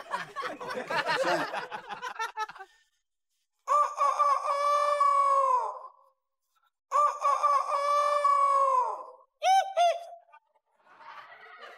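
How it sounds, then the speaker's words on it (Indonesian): A rooster crows twice in long, drawn-out calls, each after a burst of loud clucking, with short chicken squawks and pauses between, close and clear with no speech. "Itu suara ayam kah?"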